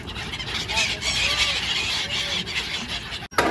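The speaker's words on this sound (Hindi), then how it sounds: "हाँ ये पंछी लोग सारे कोई आ गए हैं।" Flock of birds gathered on the Yamuna river as they are fed grain, a few short squeals and honks rising over a steady outdoor wash of noise, with a sharp knock near the end.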